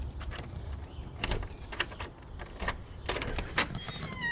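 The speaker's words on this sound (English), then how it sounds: "I'm gonna unlock my garage door" A garage door at a home in South Minneapolis is unlocked: a run of close metallic clicks, clacks and rattles arrives in scattered bursts over a low background hum.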